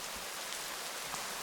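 Rain falls steadily outdoors at a bushcraft shelter, a faint, even hiss of drops without a break.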